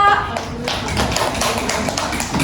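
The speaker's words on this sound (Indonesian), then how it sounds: "Tepuk tangan untuk Selvia." Students in a fifth-grade classroom clap their hands together in a short, uneven burst of applause, close and lively, with some voices mixed in.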